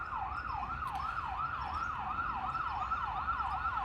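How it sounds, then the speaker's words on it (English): A wailing emergency siren sweeps up and down in a fast, steady cycle, moderately distant with faint road noise beneath, no voices. "I'll pause for a moment while the siren is raging."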